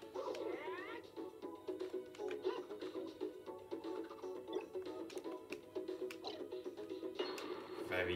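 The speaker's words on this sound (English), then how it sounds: "a cat got in the way, you just move." A cat meows and yowls repeatedly through game sound effects and music in Super Smash Bros, the cries coming in irregular bursts at moderate loudness.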